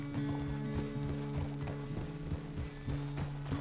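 Horse hooves clop in a steady rhythmic gait in Red Dead Redemption, loud and close, with a low droning tone underneath and no talk over them.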